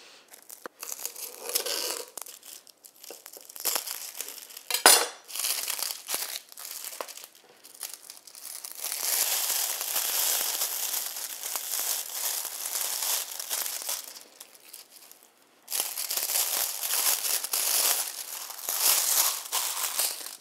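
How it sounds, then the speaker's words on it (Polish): Plastic bag crinkling and rustling as a seasoned pork loin, rubbed with marjoram, is packed into it, a near, continuous crumpling with a sharp tearing burst partway through and no talk. "Schab zapakuję do worka."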